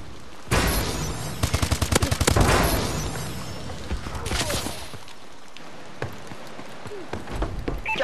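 Automatic gunfire rattles in a shooting video game, apparently an AK12: a loud rapid burst of shots early on, then scattered single cracks and faint battle noise.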